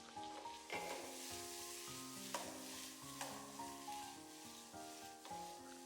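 Chicken breast and taro are stir-fried in a wok, with a soft, steady sizzle and occasional scraping strokes of the spatula, quiet beneath background music.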